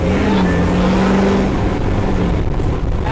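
A 600 HP Duramax LBZ diesel engine in a Humvee roars loud and close, steady and heavy as it accelerates, with a brief shift in pitch as it downshifts.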